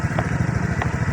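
A motorcycle engine runs near a riverside fishing spot, a steady low rumble throughout with brief faint noises over it.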